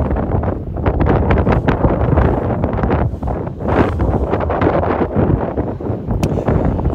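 Strong storm wind at Mallorca airport roars continuously against the microphone, buffeting and gusting loudly throughout with no one speaking.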